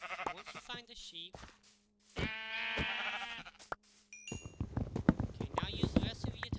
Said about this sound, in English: Once you find the sheep